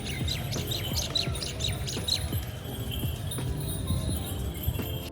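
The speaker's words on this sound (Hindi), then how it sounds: "आगे भी आपको ऐसे पक्षियों की आवाज़ और साथ में ऊँट पे लगे हुए घुंघरू की आवाज़ सुनाई देगी।" Birds chirp and tweet repeatedly at Jaigarh Fort in Jaipur, a quick run of high calls up front easing into scattered chirps, set over a steady outdoor hum with faint low knocks.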